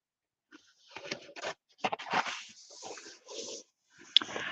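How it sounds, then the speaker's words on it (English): A puppy whimpering and snuffling softly indoors in several short, close bursts separated by quiet gaps. "And this is my puppy"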